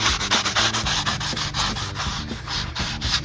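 Slot car track rails on a banked corner being scrubbed clean by hand, a steady rhythmic rubbing and sanding sound, close and continuous with repeated back-and-forth strokes and no talking.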